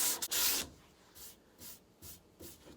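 Brand-new sandpaper on a hand sanding form rubs in a long opening pass followed by several short, soft, rhythmic rasping strokes, close and quiet, with no talk.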